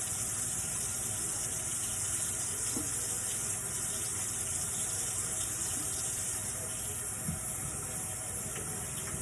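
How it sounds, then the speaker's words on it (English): Tap water runs steadily from a faucet over a forearm being rinsed at a sink, a continuous close splashing stream with no talking. "we're going to go ahead and rinse the area"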